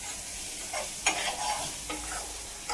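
Prawns land in hot oil and masala and fry with a steady close sizzle, broken by a few sharp stirring scrapes and clinks.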